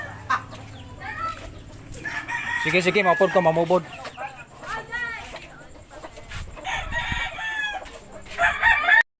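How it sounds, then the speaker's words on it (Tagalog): A rooster crows loudly nearby while hens cluck around it, with people talking over the farmyard sounds. "Dami mga manok."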